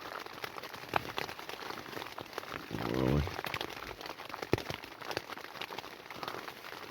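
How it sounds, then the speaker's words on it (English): Rain falls on a cheap old German tent in the woods, a faint continuous patter with scattered louder drops. A brief rustle sits in the middle, and a person speaks a single word. "And it's still raining now."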